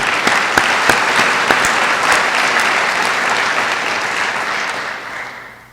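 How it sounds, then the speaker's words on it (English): Audience applause at an Eastern Michigan University E-Club ceremony, dense steady clapping from a crowd with a few sharper claps, sustained for several seconds before fading toward the end. "And Jack gets this round of applause."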